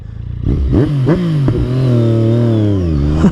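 A motorcycle engine, an Aprilia Tuono V4 1100 Factory or Yamaha MT09, blips through a few sharp revs, then holds a loud steady rising drone close by.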